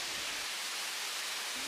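The Nagalema waterfall on Seram island gives a steady, dense roar of falling water, constant and loud with no breaks or voices.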